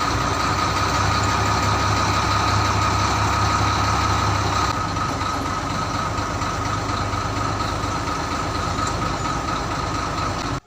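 A wheel loader's diesel engine runs steadily up close, a loud droning rumble with a constant hum that shifts slightly in tone midway.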